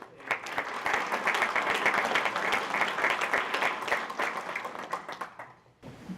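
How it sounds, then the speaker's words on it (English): Sustained audience applause at an annual anti-trafficking conference, many hands clapping in a dense, steady wash for about five seconds before fading out, with a faint voice returning at the end. "Please give her a round of applause"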